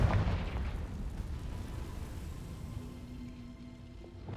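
Confringo fire spell blasting in the Hogwarts Legacy video game: a loud booming explosion at the start, then a long rumbling, crackling decay fading over several seconds, with no one talking.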